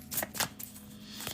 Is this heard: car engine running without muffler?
no